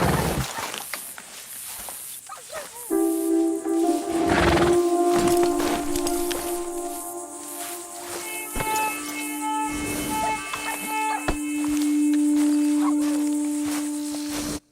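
A paint-coated horse in Red Dead Redemption, roaming New Austin, whinnies and snorts while its hooves clip-clop at a walk. Steady tonal music plays underneath.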